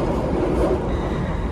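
Steady rumbling interior noise of a moving passenger train, a continuous broadband roar with no voices, heard from a seat inside the carriage.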